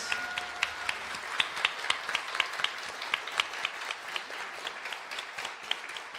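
An audience at a live country music showcase keeps applauding after a song, a thin, distant patter of hands with some individual claps standing out in an uneven rhythm.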